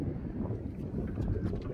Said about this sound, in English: And as you can hear, it's pretty windy.